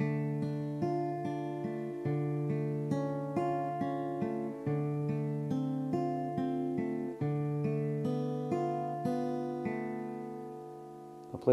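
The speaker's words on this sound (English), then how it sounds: "So I'm going to play that pattern on these first 4 chords" A steel-string acoustic guitar is finger-picked in a steady arpeggio pattern across four chords, with clear individual plucked notes ringing over each other for about eleven seconds, close and unaccompanied.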